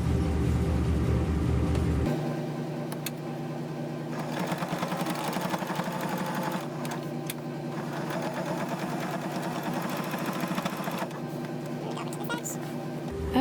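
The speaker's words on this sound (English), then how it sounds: "we're just going to sew this back into place right here" A sewing machine stitching along the edge of an old bedsheet being made into a fabric baby gate, a loud fast mechanical whir at first, then a steadier running hum with a voice speaking over it.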